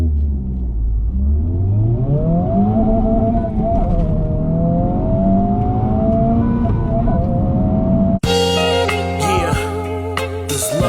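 A Honda Civic Type R FL5 at a night car meet revs up through rising engine sweeps, then a loud music track cuts in abruptly and plays over a steady engine drone.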